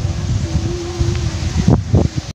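Wind gusts across a lake at a fishing spot, a steady rushing noise with low buffeting against the microphone, close and fairly loud, with a couple of stronger bursts before it cuts off.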